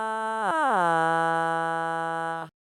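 A synthetic Vocaloid 5 voice uses the down 3 attack effect stretched to full length. It starts on a steady note, wobbles, then glides down into a long, bright, buzzy sustained tone that stops abruptly.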